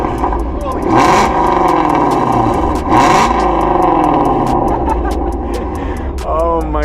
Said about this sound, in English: Brandon, can you rev it up for us?